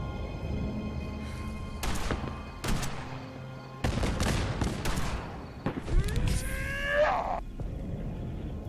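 Gunfire in the video game Fallout 4, a few loud sharp shots and bursts at close range mixed with other game effects, ending in a rising whine.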